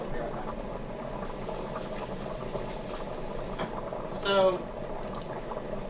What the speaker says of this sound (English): Let me wash off my hands real quick.